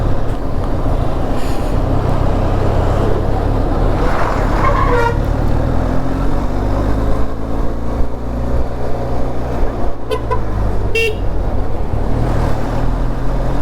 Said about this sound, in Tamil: நிற்கிறாங்க டிராஃபிக்கால் நிற்கிறாங்க.